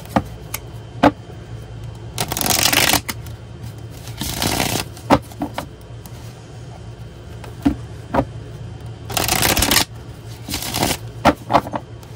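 Playing cards being shuffled in several loud, close riffles of a second or so each, separated by quieter handling and a few sharp taps, with no talking over them.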